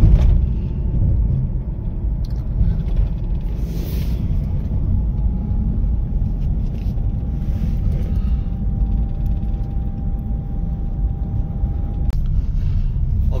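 Night traffic on a Rajasthan state highway near Sariska Tiger Reserve: a loud, continuous low rumble of passing vehicles, steady throughout with a faint sustained tone above it.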